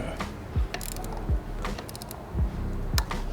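A ratcheting wrench snugs the sensor bolts on a bike, giving a few sharp clicks and short ratchet bursts at uneven intervals, close up against a quiet background.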